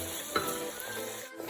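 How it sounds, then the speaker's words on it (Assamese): Chopped chillies fry in a pan over a medium flame while a pressure cooker chicken dish is being made, giving a faint, steady sizzle with a brief stirring scrape. "মই 20ৰ পৰা 30 ছেকেণ্ড এইখিনি ভালকৈ মিডিয়াম ফ্লেমত ভাজি ল'ম"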